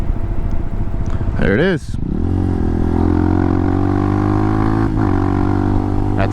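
A motorcycle at the Isle of Man TT gives a sharp rev that rises and falls, then settles into a loud, steady idle close by, with a brief voice over the engine.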